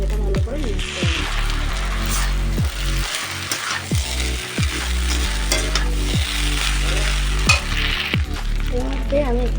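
Pasta sauce with chili and dark soy sauce is stirred in a hot pan, with a steady sizzle beneath repeated scraping and clinking strokes of a utensil against the pan.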